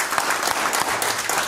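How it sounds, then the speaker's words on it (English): A church congregation claps during a Christmas-season service, giving a brief, lively burst of steady applause that fills the room. "Give him another hand clap."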